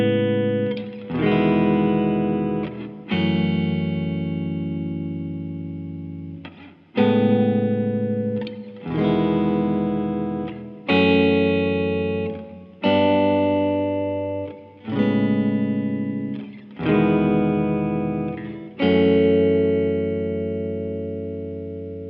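Electric guitar with effects playing a math rock chord progression that includes a borrowed chord, each chord ringing out strongly then decaying, about nine strums in a steady cycle, alone with no talking.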